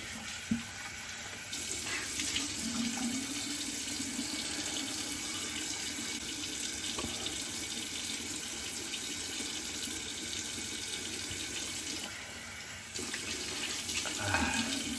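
Hot water pours steadily from a tap into a sink for a shave with a vintage Gillette Slim Adjustable double-edge razor, a continuous close hiss and splash that briefly eases near the end.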